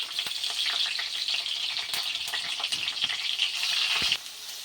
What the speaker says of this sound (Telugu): జీలకర్ర చిటపట మన్నిచ్చి మనం కట్ చేసుకున్న పచ్చిమిర్చి అండ్ కరివేపాకు వేసుకోవాలి